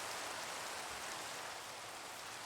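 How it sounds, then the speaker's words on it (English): Rainfall in the Minecraft video game forms a continuous broadband patter at a steady, moderate level, with no voices over it. "the rain should stop"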